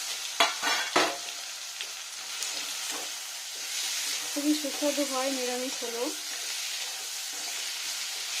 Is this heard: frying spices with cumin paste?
yes